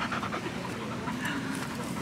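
A happy puppy pants close by in quick, steady breaths that continue without a break for a couple of seconds, with no voices over it.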